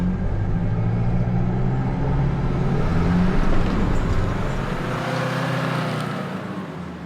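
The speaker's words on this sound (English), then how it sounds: "pump that throttle control up a little bit, give it a bit more speed" A 4WD vehicle's engine working up a track in Barrington Tops National Park, a loud, close, continuous low rumble that swells slightly mid-way and then eases off, with no talking.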